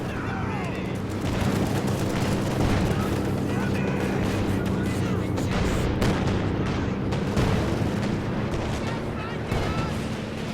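Battle sounds from a Company of Heroes 2 2v2 match, with dense, continuous gunfire, booming artillery and explosions filling the scene throughout, loud and unbroken, under a commentator's voice.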